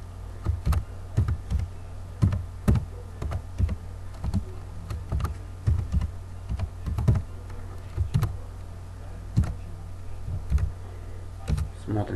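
Program code is typed on a computer keyboard as a run of close, irregular key clicks and taps, with a steady low hum underneath and a voice speaking at times.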